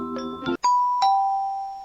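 A mobile dating game plays its phone ringtone: a few quick chiming tones, then a sustained bright electronic ring that holds and fades, clear and alone without speech.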